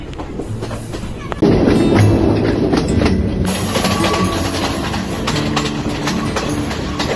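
Onboard a train running through hill-country tea estates near Bandarawela, a steady loud rumble with rhythmic wheel clatter that swells after a brief quieter opening and continues unbroken to the end.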